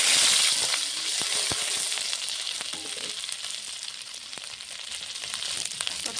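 Fresh ginger sizzles in hot oil with black cumin seeds already tempering in the pan, a steady, close, loud frying hiss running throughout and broken by faint stirring ticks, with no voices.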